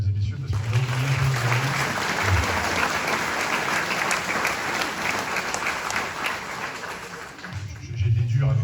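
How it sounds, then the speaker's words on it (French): Sustained audience applause at a New Year's greetings speech in Willems, France, a loud even wash of many hands clapping that fades slightly near the end before a low rumble returns. "si on pouvait l'applaudir, mesdames et messieurs"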